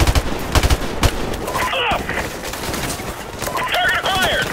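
M16 rifle fire in Call of Duty: Modern Warfare Remastered, a few loud cracking shots early on, then busier bursts of gunfire mixed with game effects.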